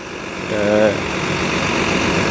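A Hino AK8 bus engine runs at a steady low idle-like drone, with a brief rising whine near the start and a constant rumble throughout.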